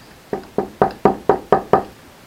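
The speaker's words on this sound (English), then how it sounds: "knock on the door maybe, or some simple sound sometimes" Seven evenly spaced knocks on a door, sharp and close, each with a short hollow decay, following one another at a steady quick rhythm against near silence.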